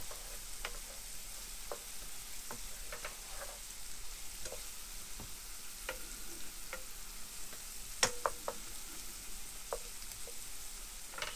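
Onions fry over a small stove turned up full for an Italian tomato sauce, a soft steady sizzle with frequent small pops and light stirring taps, quiet and close.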